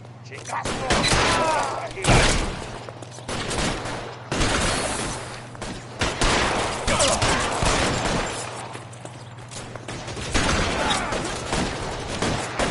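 Pistol and gun shots in the L.A. Noire video game: repeated loud, sharp gunfire cracks in clusters over a steady low background hum, with a voice speaking intermittently between volleys.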